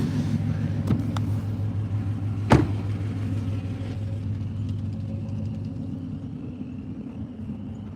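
Car engine rumbles low and steady as the vehicle slowly pulls in, with a soft continuous hum and a brief sharp knock partway through.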